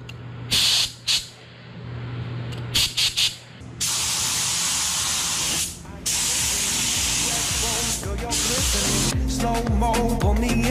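A spray gun lays the final coat of paint on a rebuilt Chevrolet Silverado truck, its loud steady hiss coming in short bursts and then long sustained passes, with a low droning hum running underneath.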